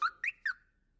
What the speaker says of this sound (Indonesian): bahkan mengeluarkan bunyi alarm mobil